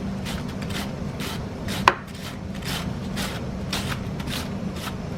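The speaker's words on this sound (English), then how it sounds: "I'm gonna go ahead and slide them, and I use my favorite knife" Knife slicing cabbage on a cutting board for Lao cabbage salad, a steady run of crisp close chopping cuts at an even rhythm, with one sharper knock partway through and no talking.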